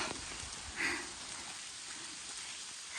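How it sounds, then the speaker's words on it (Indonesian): Soft, steady hiss of rain falling on foggy Mount Ciremai, Indonesia, fairly quiet and continuous, with a faint brief sound near the start. "tiba-tiba hujan lagi"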